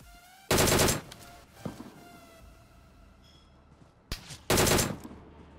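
Gunfire in the mobile battle royale game BGMI: two loud, near bursts of rapid automatic shots about a second long each, separated by quieter game ambience with a few faint isolated pops.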